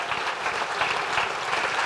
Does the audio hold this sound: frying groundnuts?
no